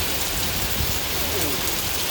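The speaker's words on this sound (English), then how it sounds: "Wow, it's like blowing the rain sideways." Heavy summer storm rain blown sideways, a dense continuous roar of downpour hitting surfaces, loud and close with no break.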